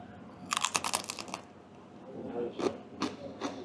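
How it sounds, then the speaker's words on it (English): Crispy pork crackling being bitten and chewed up close, a quick cluster of sharp crunches followed by a few softer, spaced crunches while chewing continues quietly. "You hear that crunch?"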